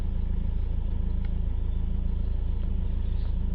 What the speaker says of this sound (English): Start the engine up.